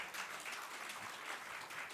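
Scattered applause from a conference audience at a business media event, a steady wash of many hands clapping, fairly faint and distant, with no talk over it.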